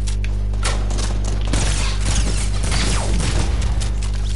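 AK rifle fire in a first-person shooter, a loud chaotic stretch of rapid gunshots and bursts with thumping impacts and mechanical clatter, dense throughout with no one speaking.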